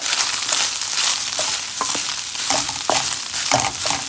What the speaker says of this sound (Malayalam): ഒന്ന് വഴറ്റി കൊടുക്കുക